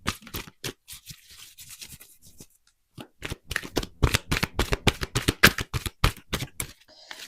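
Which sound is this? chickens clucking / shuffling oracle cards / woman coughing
shuffling oracle cards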